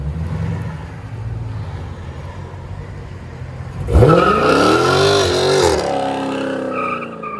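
A 2015 Dodge Challenger Scat Pack with a 6.4-liter V8 and original converters idles with a low rumble, then revs hard in a loud, sweeping burst of exhaust roar before settling back down; nearby voices can be heard.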